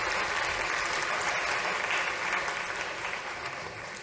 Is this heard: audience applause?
yes